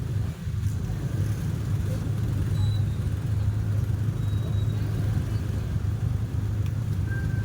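Heavy traffic of cars and motorcycles on a flooded road in Valenzuela City during rain, a steady low engine rumble with a continuous wash of road noise, close and loud throughout with no pauses.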